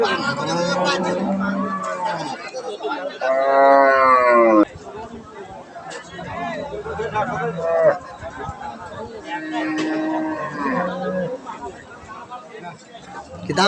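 A pregnant Friesian cow lets out one long, loud moo partway through, surrounded by steady crowd chatter and nearby voices talking.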